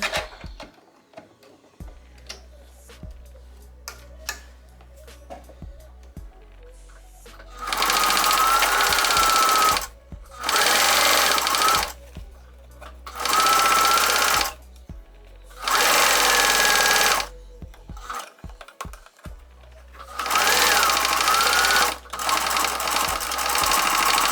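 A sewing machine stitches corset fabric in five long, loud, steady runs of rapid mechanical whirring, separated by short quiet pauses with faint handling noise.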